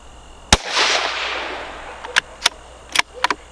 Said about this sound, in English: Let's go ahead and take 2 shots right at the center there